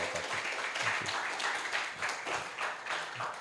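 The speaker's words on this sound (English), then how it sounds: "please, applause for Dr. Harminder Battu" Lecture audience applauding, a fairly faint, even patter of many hands clapping that continues steadily through the short stretch.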